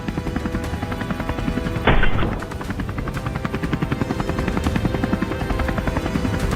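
A helicopter carrying a wild boar hunting party drones loudly and steadily with a thudding rotor pulse, a brief burst of noise cutting in partway through.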